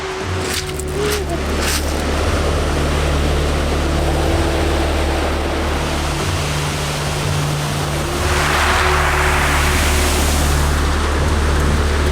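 Ocean waves at a beach on the south coast at high tide, a constant loud surf roar with a brief swell near the end, heard alone without talking.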